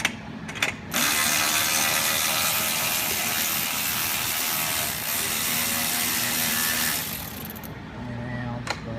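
A ratchet with a 7/16 socket loosens bolts on a 6.0 Powerstroke engine in a truck with the cab on. A loud, continuous rapid clicking runs for several seconds, close by, between brief pauses at the start and end.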